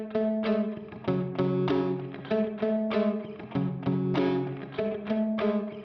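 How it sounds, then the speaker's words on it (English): Electric guitar recorded in Cubase with reverb and delay plugins. Rhythmic picked chords repeat in a steady pattern with a wash of echo and ambient tail, and no voices are heard. "so now you hear that we have reverb and delay"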